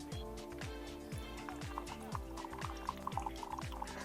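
A FAMIWORTHS hot and iced coffee maker brews a regular-strength 10-ounce cup, its hot water dripping and trickling in a steady liquid flow beneath a repeating low mechanical pulse, close and continuous with no talking.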